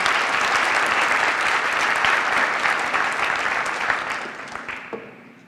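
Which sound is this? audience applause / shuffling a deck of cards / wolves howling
audience applause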